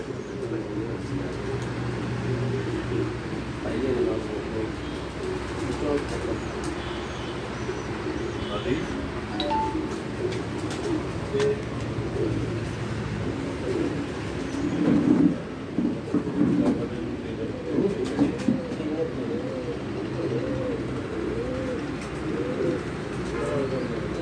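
Pigeons coo softly in repeated rounded calls over a steady background murmur, with a few chirps and passing traffic noise.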